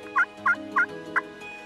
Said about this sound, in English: have that high-pitched hen in just a flip of the call.